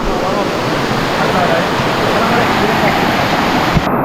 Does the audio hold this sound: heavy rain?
yes